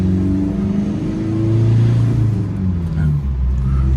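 A remapped 2022 1.9-litre pickup accelerates hard in second gear, its engine note climbing steadily in a loud, close rumbling drone from inside the cab.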